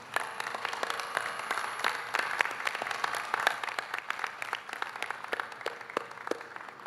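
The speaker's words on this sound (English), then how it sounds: "can we all join together in giving a huge round of applause to the brilliant graduating students from" A convocation crowd at Sunway University applauds its graduating students, a steady wash of clapping dotted with sharp individual claps, sustained and fairly close throughout with no talking.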